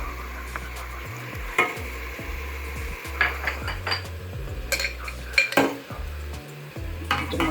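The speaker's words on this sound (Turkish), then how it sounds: "Biraz soğanımla etim kavruldu. Şimdi salçalarını koyayım." Metal spoon scraping and clanking in a pan as tomato paste goes into onions and meat frying for a chickpea dish; irregular close stirring knocks over a soft sizzle, with no talk.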